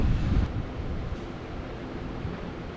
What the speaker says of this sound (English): winds are blowing